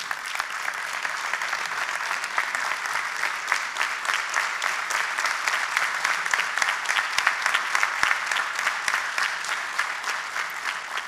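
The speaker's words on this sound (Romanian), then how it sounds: "Vă mulțumesc, mulțumesc pentru multiplele aplauze." Sustained, evenly dense applause fills a hall at a PSD county organisation election conference in Bacău, a steady crowd of hands clapping for about eleven seconds with no break and little talk.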